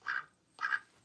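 A pet duck quacks twice up close, two short nasal calls about half a second apart with a brief quiet gap between them and no voices.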